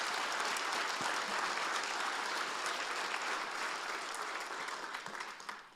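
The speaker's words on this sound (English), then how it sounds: "Let's give them another round of applause." A conference audience at a food entrepreneurship event breaks into sustained, dense applause, loud and steady for several seconds before easing off slightly at the end.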